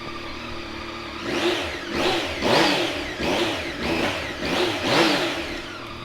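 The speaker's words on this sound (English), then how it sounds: "I'll give it a start up so you can have a listen to it." A 2015 Yamaha Tracer 900 triple motorcycle is started and left running, then blipped in a series of five or six rising and falling revs over a steady idle, loud and close with no talk.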